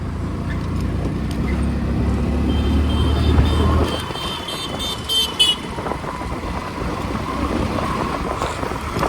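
Motorbike riding through busy Delhi traffic, with steady engine and road rumble, passing vehicles and scattered honks close by, someone talking over the noise throughout.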